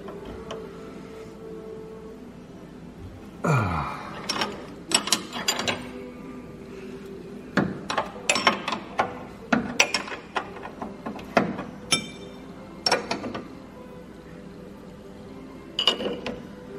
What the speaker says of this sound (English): so we'll get some wrenches and tighten it up